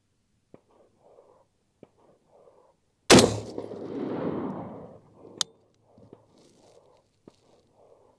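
A single loud precision rifle shot fired outdoors while zeroing, a sharp crack followed by a long rolling echo that fades over about two seconds, with faint murmuring talk before and after.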